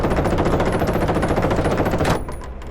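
In the tank combat game Call to Arms: Panzer Elite, loud rapid gunfire rattles in a dense, continuous burst close by, then cuts off sharply, leaving a quieter lingering tail.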